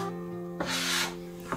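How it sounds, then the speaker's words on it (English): Two short rough rubbing bursts of margarine being rubbed into flour by hand, against a steady background hum, close by and moderately loud. "we are rubbing the margarine and flour to create a sandy texture"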